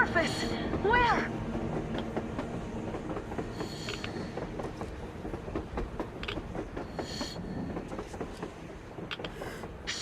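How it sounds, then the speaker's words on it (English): A train rumbles past on the surface in the video game Metro Exodus, its clattering wheels and metallic squeals rising and falling under game voices and sound effects. "A damn train on the surface!"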